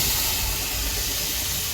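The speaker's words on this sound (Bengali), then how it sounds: "সেদ্ধ করা সেই ডালটা দিয়ে দিলাম" Boiled lentils tipped into a hot pan of fried turmeric and green chillies, giving a loud, steady sizzling hiss with no speech over it.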